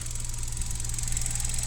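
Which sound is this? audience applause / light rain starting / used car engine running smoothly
used car engine running smoothly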